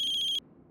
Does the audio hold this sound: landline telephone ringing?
yes